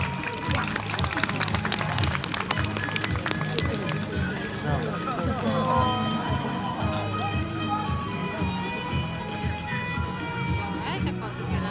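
A crowd claps steadily at a knight tournament in Iłża, with a busy, sustained patter of hands under a rhythmic low pounding and a voice talking over it.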